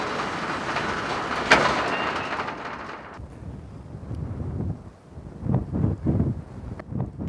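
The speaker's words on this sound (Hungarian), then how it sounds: "Ez a szél a nagysebességű Kosava." Strong Kosava wind, the southeasterly gusting wind, roars loudly and broadly for about three seconds with a sharp gust buffet, then drops to a lower rumbling blow with fluctuating surges.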